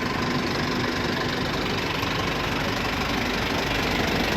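A fully loaded motorcycle's engine idles steadily and close, a dense continuous rumble with a faint knocking texture running unbroken throughout, with no talk over it.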